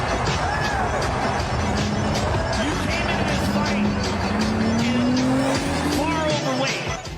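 Ferrari sports cars drive through a village, with loud engine roar, rising revs and tire squeal, seemingly passing close by; a voice or crowd noise is mixed in underneath.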